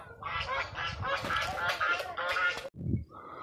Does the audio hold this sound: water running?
no